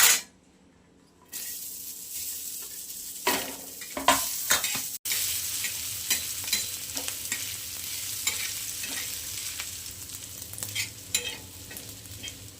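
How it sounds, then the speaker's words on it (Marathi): Onion frying and being stirred in a pan for a homemade cabbage kofta curry, with a steady sizzle and repeated scraping stirs near the mic, running alone with no talk. "आता मी कांदा भाजून घेणार आहे."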